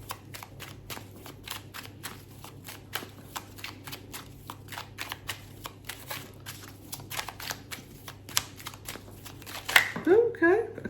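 Tarot cards are shuffled steadily in rapid riffles and rustles for several seconds, ending with a few brighter card slaps; a low background hum and occasional voices murmur underneath.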